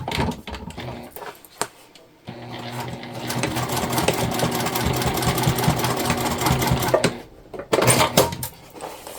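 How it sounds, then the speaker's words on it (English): A sewing machine runs a long basting stitch across tote bag exterior panels, a steady mechanical whir lasting several seconds with brief stops and handling noises at either end. "we're just gonna baste those down before we sew together our exterior panels"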